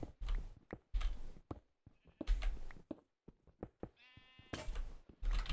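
Sheep in Minecraft bleat several times in short, clipped bursts, close and fairly loud, with soft blocky footsteps and thunks between the calls.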